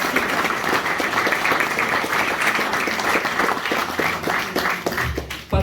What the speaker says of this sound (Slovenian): Še en aplavz za solistko.